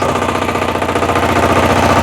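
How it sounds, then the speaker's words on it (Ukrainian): A Weima engine fitted to a Motor Sich walk-behind tractor runs loud and close with a steady, even chugging throb that does not let up. "Дуже гарно запускається завжди двигун Вейма, який встановлений на мотоблочці Motor Січ."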